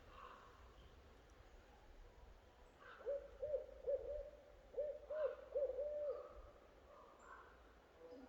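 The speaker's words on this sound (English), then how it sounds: "I wish I could identify what kind of an owl that is simply by the hooting" An owl hooting in woodland, a series of soft low hoots repeated in short clusters at moderate distance, standing out over faint ambient background noise with no talking.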